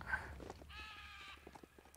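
A goat creature in the action RPG Biomutant gives a short, wavering bleat at mid-distance, alone over a low game background with some light footstep-like taps.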